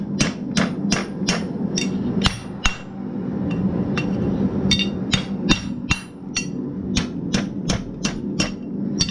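A hammer strikes hot steel on the horn of an anvil while forging a heavy trammel hook, sharp ringing blows in irregular bursts, close and loud, with no talking.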